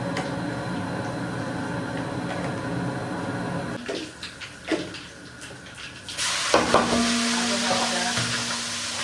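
Mustard seeds, cumin and ajwain sizzle in hot oil, close and steady. The sizzle flares louder near the end, with a few clinks and stirring knocks in between.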